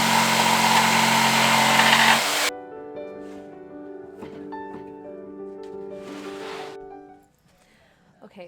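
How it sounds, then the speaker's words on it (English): A power sander smooths wooden edges with a loud, close, steady whir for about two seconds before shutting off, leaving quiet background music from a neighbor's home. "Okay, so I'm about to use my sander."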